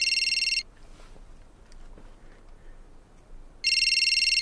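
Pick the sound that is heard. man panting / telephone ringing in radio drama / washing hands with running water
telephone ringing in radio drama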